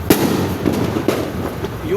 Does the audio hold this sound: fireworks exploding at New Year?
yes